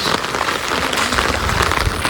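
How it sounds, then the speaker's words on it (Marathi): Steady, dense rain patters on surfaces close by, a loud continuous hiss without pause. "बघा पाऊस"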